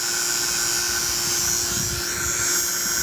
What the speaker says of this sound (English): we've been pulling a vacuum here for probably about 10 minutes or so